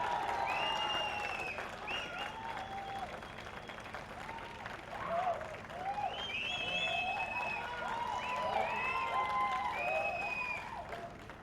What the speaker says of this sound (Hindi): Ladies and gentleman, for the serial एक बार जोरदार तालियां हो जाए।